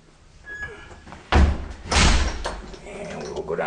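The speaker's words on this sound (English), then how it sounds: "Side entry door." A side entry door of a house bumps and slams shut with a couple of solid thuds, close by, as a person talks quietly in a room.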